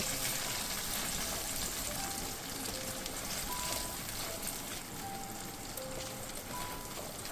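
A paste of ginger, green chilli, melon seeds and poppy seeds frying in oil for a Bengali paneer dish, producing a soft, continuous rain-like hiss that stays even throughout.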